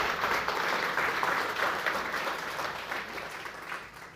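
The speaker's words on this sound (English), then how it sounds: "please clap that up" Audience applauding at a workforce conference, a steady wash of many hands clapping at moderate volume that holds for several seconds and fades slightly toward the end, with no talk over it.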